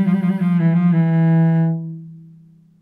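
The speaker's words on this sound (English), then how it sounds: "you can make more turns in trill" A solo cello plays a trill with several turns from Breval's Sonata in C Major, rapid alternating notes at the start settling into a long sustained low tone that slowly decays.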